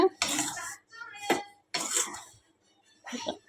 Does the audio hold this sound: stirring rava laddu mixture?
yes